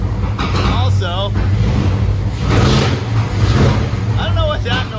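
A car engine idles and runs steadily with a slightly imperfect exhaust, a constant low rumble heard close throughout while people talk over it.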